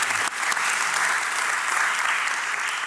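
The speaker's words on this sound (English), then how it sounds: "even that applause is a convey of our love and sympathy to you and your family" Audience at an interfaith discussion breaks into warm, sustained applause, a full and steady wash of many hands clapping that continues evenly throughout.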